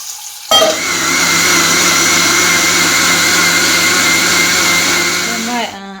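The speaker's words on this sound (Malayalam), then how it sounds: "മിക്സിയുടെ ജാറിലേക്ക് ഇത് ഇടാം കേട്ടോ എന്നിട്ട് അത് അരച്ചെടുക്കണം" A loud, continuous whirring roar of a mixer grinder grinding rice, running steadily for several seconds, starting abruptly and winding down at the end.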